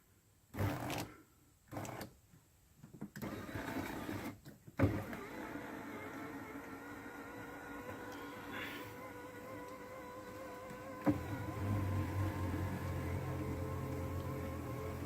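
The electric third-row seat motor of a 2007 Ford Explorer whirs steadily with a buzzing hum, preceded by a few short bursts of motor activity, running alone at moderate level.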